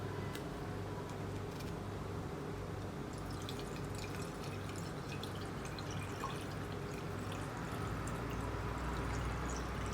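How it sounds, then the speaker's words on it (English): Water poured slowly into a glass jar holding Philodendron Micans cuttings for propagation, a steady soft trickle and splash with faint dripping, close up and continuous with no talking. "slowly pour the water."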